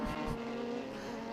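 A Norma prototype race car runs at Sonoma Raceway during PSSA prototype racing, its engine a loud, steady high-pitched drone with a sustained tone throughout and no talk.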